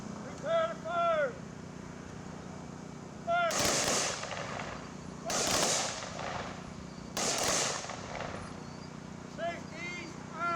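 An honor guard fires three ceremonial rifle volleys at a Danish cemetery re-dedication. Loud, evenly spaced cracks with brief echoing tails ring out, and a voice speaks before and between the shots.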